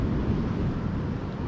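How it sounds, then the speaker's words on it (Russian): Strong Pacific Ocean surf at high tide roars in a dense, steady wash, loud and close with wind buffeting the microphone, and no voices. "Уже сильный прибой, прилив"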